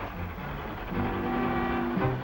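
A steam train effect in a comedic radio drama: a low rumbling chug rises into a sustained whistle-like tone for about a second before dropping away, moderately loud and without any voices.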